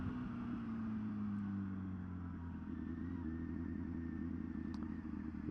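A 2017 super sport motorcycle is ridden at a steady cruise, its engine giving a continuous low drone with a slight drop in pitch, recorded close on the bike alongside steady wind noise.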